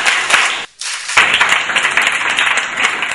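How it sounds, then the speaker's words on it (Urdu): Audience applause for the next participant at a school speech competition, dense continuous clapping with a brief dip before resuming strongly, loud and close. "بہت ساری تالیاں"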